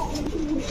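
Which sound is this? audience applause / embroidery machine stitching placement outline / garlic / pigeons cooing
pigeons cooing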